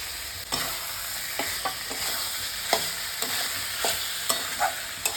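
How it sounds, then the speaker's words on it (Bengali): Fried potatoes being stir-fried with spices in a pan, a steady sizzle broken by repeated scraping and stirring strokes close by, with no talk. "ভেজে রাখা আলুটা দিয়ে দেবো।"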